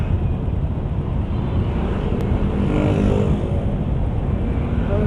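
Heavy road traffic in Santa Rosa, Laguna, with cars and motorcycles crawling past, a dense, continuous, close engine rumble with some wind buffeting on the microphone.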